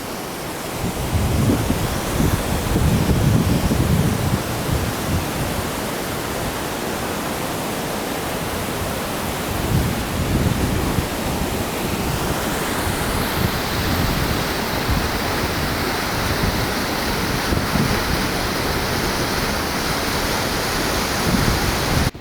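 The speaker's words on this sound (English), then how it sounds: "Whoa, what is this waterfall?" Thác Rồng waterfall off the beaten road near Trung Lèng Hồ in Mường: a steady, loud, continuous rush of falling water with low rumbling, unbroken throughout.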